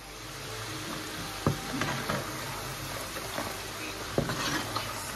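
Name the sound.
cassava fries frying in hot oil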